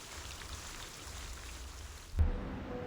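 Rain in the game Reverse 1999 falls as a steady hiss for about two seconds before it cuts off abruptly into a duller, quieter ambience.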